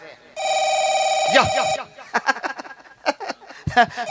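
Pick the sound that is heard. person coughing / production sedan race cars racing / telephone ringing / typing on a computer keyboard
telephone ringing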